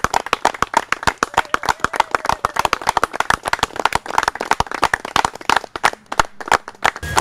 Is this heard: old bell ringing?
no